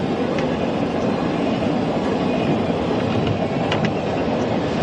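A train hauls past on a busy railroad track in New Mexico, a loud continuous roar of rolling wheels and rattling cars with faint clacks, close and steady for the whole stretch, no voices.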